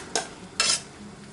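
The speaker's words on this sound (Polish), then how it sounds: "Na patelni lądują dwie łyżki oleju i podsmażamy na nim na złoto" Diced onion in two spoonfuls of oil in a frying pan, stirred with a utensil, giving two quick scraping, sizzling swishes over a faint steady background.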